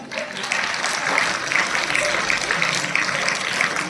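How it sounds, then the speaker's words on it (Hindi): Steady, dense applause from a crowd at a Children's Day event, filling the whole stretch at an even loudness with no voices standing out. "जोरदार ताली से उनका स्वागत करें।"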